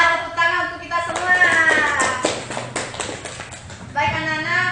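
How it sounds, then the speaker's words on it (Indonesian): A third-grade class clapping hands together in an Indonesian classroom, a burst of fast claps running for a couple of seconds mixed with voices, then fading out. "Ya, tepuk tangan untuk kita semua."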